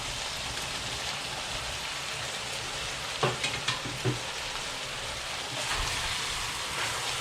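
Bitter gourd and eggplant drop into a hot pan of pinakbet, with a constant crackling sizzle broken by a few clattering knocks as the vegetables land and settle.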